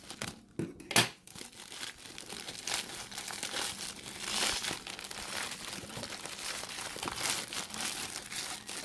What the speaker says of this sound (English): we are now in the inner layer of the box. Oh, this is really irritating. So let me just cut through again.